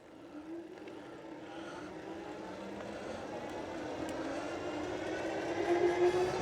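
A dual-motor eBike climbs a steep hill at full throttle, its motor whine rising steadily in pitch over a rushing wind and road noise that grows louder toward the end, with no one talking.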